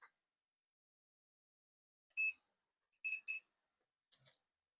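A multimeter beeps in continuity mode while cables are probed on a vintage Sanyo Walkman being repaired after battery-acid damage. Several short, clear electronic beeps come at irregular intervals, with a pair close together in the middle, against near silence.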